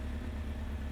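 A Honda CBR 900 Fireblade motorbike, running on three cylinders with its carburettors badly out of balance, idles warm with a steady low hum and even throb, close and continuous, with no talking.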